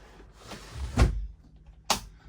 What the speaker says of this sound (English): Let me shut the windows and the door.